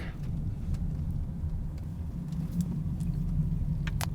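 A car drives along a road through Occum, Connecticut, its steady low engine and tire rumble running continuously and fairly close throughout, with no talking.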